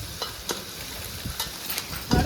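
Curry leaves sizzle and crackle in hot oil in a pan, a close, steady frying hiss broken by a few sharp pops and a stirring scrape near the end.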